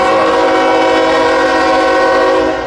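A freight train hauling well cars and trash containers on the Trenton Sub at Woodbourne Station sounds a loud, sustained horn blast that holds steady nearly the whole time over the rumble of rolling cars.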